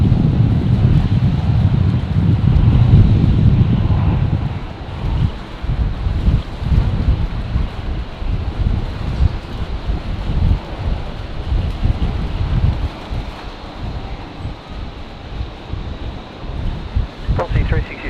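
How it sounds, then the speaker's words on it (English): A strong, steady crosswind at Brisbane Airport buffets the microphone with heavy, continuous rumbling gusts, loudest at the start, with faint talk underneath. "The sun's finally out again. But the wind's picked up. Oh, yeah. It's a solid crosswind now."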